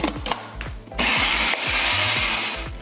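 Food processor blending a gluten-free vegan pie filling until smooth, a whirring motor hum that surges into a louder grinding roar partway through, with repeated thumping pulses underneath.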